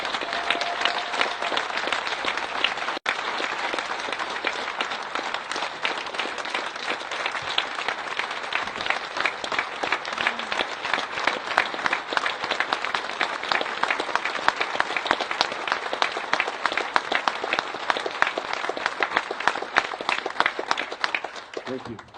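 Sustained round of applause at a celebration-of-life memorial service honoring survivors, dense steady clapping from a crowd lasting over twenty seconds without a break.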